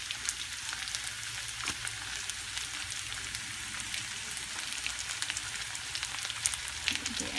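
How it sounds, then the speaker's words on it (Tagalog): Garlic and onion sizzle steadily in a hot pan for a kangkong stir-fry, a soft continuous frying hiss with occasional crackling pops, fairly quiet and without voices. "Then just saute the garlic and onion."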